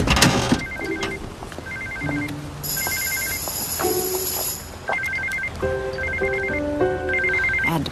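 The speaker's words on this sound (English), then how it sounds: "The only calls I'll take are Stewart's" A telephone rings repeatedly in short electronic trilling bursts, loud and close, alternating with a sustained high tone, with no talking.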